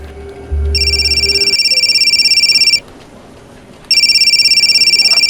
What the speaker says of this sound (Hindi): एक्सक्यूज मी, मेरी मम्मी का फ़ोन है